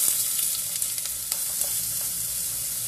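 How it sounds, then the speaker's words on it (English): Sliced onion frying in hot grease in a home kitchen, a steady close sizzle with crackling pops and occasional stirring scrapes throughout, no talking. "we are hot with this grease right now. I'm going to put in the onion."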